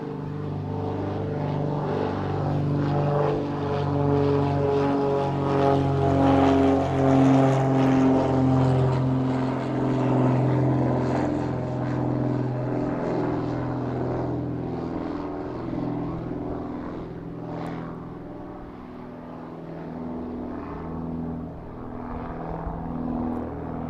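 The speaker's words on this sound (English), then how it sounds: "National Police Service Vulcan there, making its way out of East Midlands this evening" National Police Service Vulcan propeller aircraft departing East Midlands in the evening, a droning, harmonic propeller hum that swells as it passes, then slowly fades into the distance.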